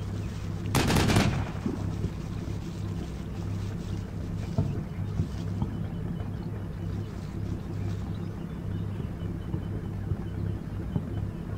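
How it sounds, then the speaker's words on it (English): A .50 cal machine gun fires in the WWII game Combat Mission, a single loud burst near the start followed by a steady rumbling ambient battle bed with faint distant shots. "rush them up while the 50 cal is still shooting at them"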